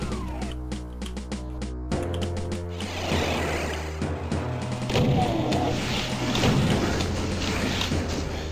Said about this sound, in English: I just walked right into that fireball.